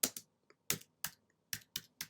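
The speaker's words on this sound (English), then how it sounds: "you also have the option of typing your own greeting message in here" Typing on a computer keyboard: close, crisp individual key clicks in an irregular pattern, about eight keystrokes, with silence between them.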